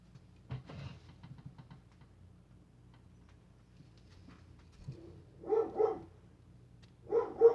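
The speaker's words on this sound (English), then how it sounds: "Excuse me if you hear my doggy out there." A dog barks outdoors at a distance, two short bursts of barking near the end after a mostly quiet stretch with faint knocks early on.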